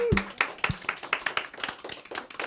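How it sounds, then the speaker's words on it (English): A small group gives a round of applause for a guest on a show, sparse, evenly spaced claps close by with a brief voice at the start. "everybody give Jonathan a round of applause"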